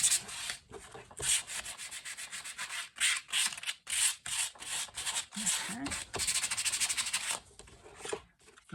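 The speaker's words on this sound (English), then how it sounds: "Notice I'm sanding against the grain." Close, scratchy strokes of hand sanding on wood against the grain, rasping back and forth in a quick uneven rhythm with brief pauses between passes.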